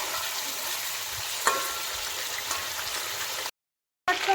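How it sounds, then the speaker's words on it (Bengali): Meat fries in a pan for khichdi with a continuous close sizzle and crackle, one sharper pop partway through, then a brief gap of silence before the sizzling resumes. "মাংসটা ওইদিকে ভাজা হচ্ছে"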